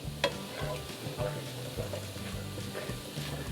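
Diced red and yellow peppers, celery and onions cook down in a pan with a steady, close sizzle and occasional soft stirring scrapes, no voices.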